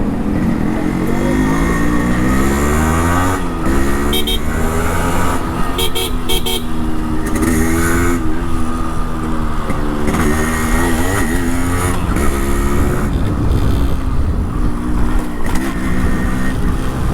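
Yamaha RX100 motorcycle with a new cut exhaust muffler, its two-stroke engine throttled up and down in crisp, crackling revs, loud and close, with a voice talking over the engine throughout.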